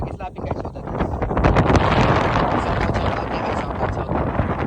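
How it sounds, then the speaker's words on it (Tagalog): Strong wind roars and buffets against the microphone, a loud, rough, continuous rush that never lets up. "Halos tangayin tayo ng hangin, ng napakalakas na hangin."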